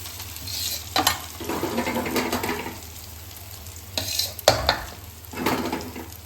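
Sesame seeds spatter and sizzle in hot oil while handvo cooks, with stirring bursts and sharp pops recurring in short clusters, close and fairly loud, with no voices.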